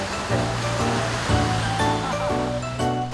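Ocean surf at a surfing beach roars steadily, with waves breaking in repeated rushes, loud and close, with no voices over it.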